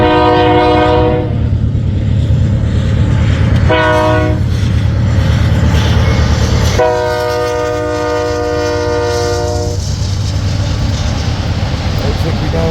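Freight train hauling empty auto racks passes on a snowy day on the Blair Fremont subdivision, with loud, steady rumble and wheel noise, sounding repeated long horn blasts at close range.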